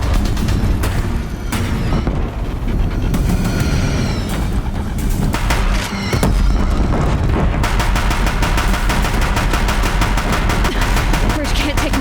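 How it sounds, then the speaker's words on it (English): Deathbringer machines in Horizon Zero Dawn fire their guns at a bridge, a dense continuous barrage of rapid loud shots and booming impacts that never lets up for the full length. "If the Deathbringers keep firing,"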